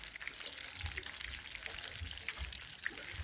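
Fish frying in oil in a covered pot over a coal stove outdoors, a steady dense crackle and sizzle close by with faint low rumbles, no talking.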